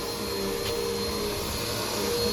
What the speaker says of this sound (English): I'm trying to get a nice vacuum line.